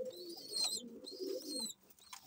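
Silver Bejie pigeons coo in a multi-storey loft, with soft, close, repeated throaty coos in short phrases and a brief pause near the end.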